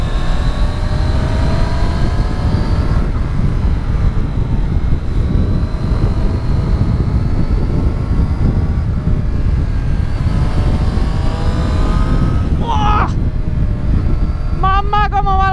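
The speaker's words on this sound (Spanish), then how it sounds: "¡Mamá, cómo va la segunda de esta moto!" A Triumph Street Triple S motorcycle being ridden on a country road: a constant loud engine drone with rising tonal whine as it pulls through second gear, wind rumble beneath, and a brief sharp chirp near the end.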